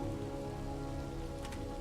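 Steady rain patters down across a surface in the stealth strategy game Phantom Doctrine, a dense, even hiss that stays constant throughout with a brief brighter splash near the end, and no voices.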